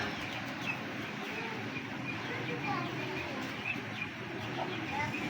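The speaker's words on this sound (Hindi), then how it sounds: "ये मेल है, बड़ा तगड़ा कबूतर है" A male pigeon kept with its pair by a breeder coos softly amid a dense, continuous background of other birds calling and cooing in a loft.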